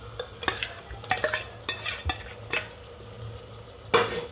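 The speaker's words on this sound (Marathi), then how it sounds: "त्यांचे व्यवस्थित मिक्स मसाल्यामध्ये करून घ्यायचे" Marinated prawns being mixed into frying onion masala in a pressure cooker for prawn biryani: a spoon scrapes and knocks against the pot in quick irregular strokes over a low sizzle, close up, with no speech.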